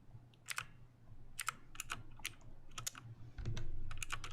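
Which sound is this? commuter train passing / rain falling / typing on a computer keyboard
typing on a computer keyboard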